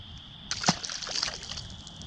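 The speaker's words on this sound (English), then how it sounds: "He splashed me hard." A largemouth bass hooked on a square bill crankbait thrashes at the surface, sending one sharp close splash followed by a short burst of sloshing and dripping water.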